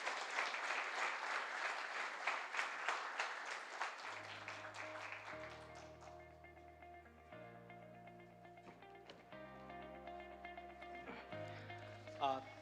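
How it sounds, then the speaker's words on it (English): Audience applause at the Tally Solutions MSME Honours 2023 awards ceremony in Delhi, a dense burst of clapping that fades after about four seconds as sustained music-like tones and a voice take over. "So a round of applause for all of you."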